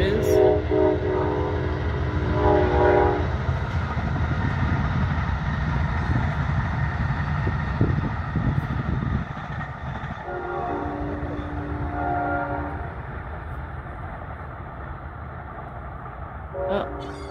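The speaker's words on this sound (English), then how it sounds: "Oh, it's a train. I get to see a train, babe. You can hear it." A passing train heard from a backyard near the water: a steady rolling rumble throughout, with loud horn blasts at the start, again midway and briefly at the end.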